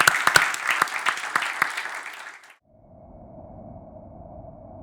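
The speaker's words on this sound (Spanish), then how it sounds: "les agradecemos con un aplauso" An audience at a BASF biofuels and sustainable agriculture session claps for about two and a half seconds, a fairly loud patter with some sharp individual claps, then it cuts to a steady low tone.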